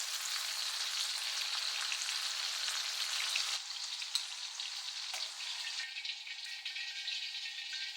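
Green beans deep-frying in hot oil, a steady dense crackling sizzle that runs the whole time and eases a little toward the end, with a few light clinks and stirs and no talking.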